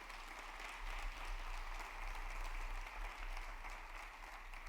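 A church congregation applauds steadily during a Spanish-language sermon, a dense, even wash of clapping that continues for the whole stretch, moderately distant with no single voice standing out.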